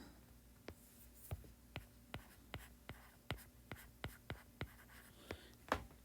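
A pen scratches out a letter on a physics worksheet in a quick series of short, sharp strokes, close and quiet, with no talking.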